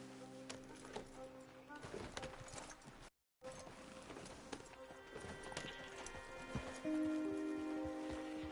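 Horse hooves clip-clopping in a video game, a steady rhythmic clatter of hooves on ground at close range with ambient outdoor game sounds and a tone sustained underneath.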